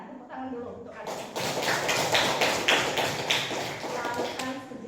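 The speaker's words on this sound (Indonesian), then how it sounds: "tepuk tangan dulu untuk kalian" A class of students applauding in a chemistry lesson: a steady, close burst of many hands clapping that swells after a second and carries on for several seconds, with a teacher's voice at the start.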